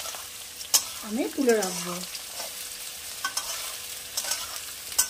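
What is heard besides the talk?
stirring and frying vegetables in a pan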